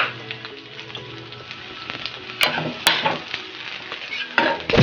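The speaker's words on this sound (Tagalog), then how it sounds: "magigisa na tayo. Favorito kong mantiga, mga parikoy. Chicken oil." Sliced garlic sautéing in chicken oil for Bicol Express, a close, bright sizzle with spatula stirring and scraping, plus a couple of sharp metallic clicks against the pan.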